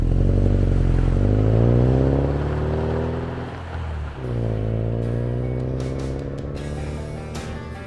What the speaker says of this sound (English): we headed off on the first leg of gravel roads